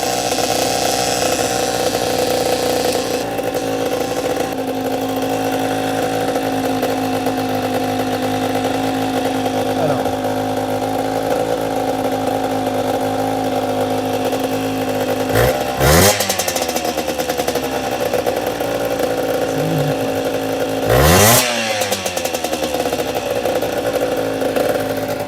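2008 MBK X-Limit enduro moped under restoration, idling too high after starting on the choke, a steady close mid-pitched drone broken by two sharp revving blips.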